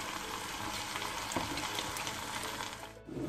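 Chopped ingredients, parsley among them, sizzle in a hot pan for Algerian chicken tlitli, a dense, steady frying crackle that runs on alone and breaks off briefly near the end.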